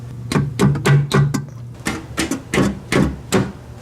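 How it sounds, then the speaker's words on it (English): A hammer strikes metal about nine times in a steady rhythm during a clutch replacement, each blow sharp and close, with a brief pause partway through. "I'm gonna hit that with the hammer instead of hitting any of this with the hammer"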